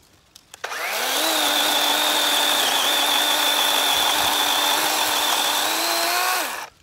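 A DeWalt chainsaw cuts through a 4-inch log, the motor spinning up with a few clicks, then a loud, steady buzzing whine holding for about five seconds before winding down at the end.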